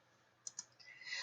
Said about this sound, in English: I just need to type 7 in there.